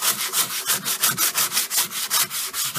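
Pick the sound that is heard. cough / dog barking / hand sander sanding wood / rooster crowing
hand sander sanding wood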